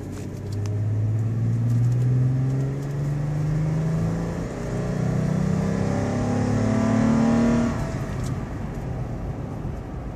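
A 2015 Toyota 4Runner accelerates while driving, a low engine rumble rising in pitch through two long pulls before easing off, heard close from inside the cabin.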